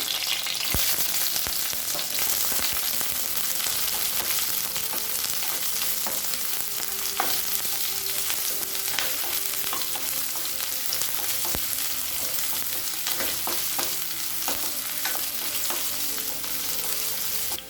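Steady, loud sizzling of sliced onions and curry leaves frying in hot oil in a pan, with occasional clinks and stirring scrapes throughout, no talking.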